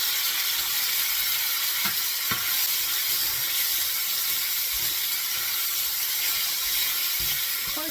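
Pork browning in a pan seasoned with green chili, giving a steady, close broadband sizzle that runs the whole time, with a couple of faint clicks and no talking.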